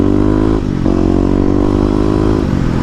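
A Kawasaki KLX250 motorcycle runs close by, its single-cylinder engine holding a steady, loud, buzzing drone with a brief dip in revs, no one speaking.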